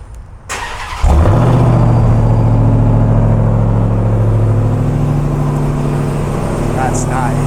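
A Ram TRX's supercharged Hellcat V8 fires up by remote start with a sharp loud catch, then settles into a deep, rumbling idle that holds steady and close. Someone speaks over it.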